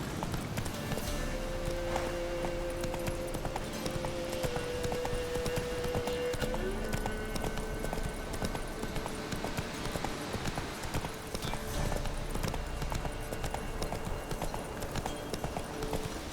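Horse hooves clip-clop in rapid, steady rhythm in The Witcher 3 video game, continuous and close throughout with a tonal game-music layer in the background.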